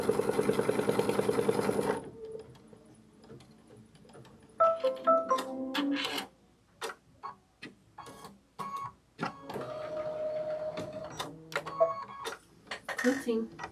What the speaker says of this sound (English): And then I think it's going to do the quilting.